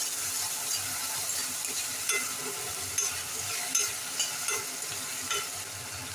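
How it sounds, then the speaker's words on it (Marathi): A chopped onion and tomato roast in a pan for a Malvani fish dish, a soft steady sizzle broken by a few light scrapes and taps of stirring, heard close with no voices. "आता हे कांदो आपण चांगलं भाजून घेऊया."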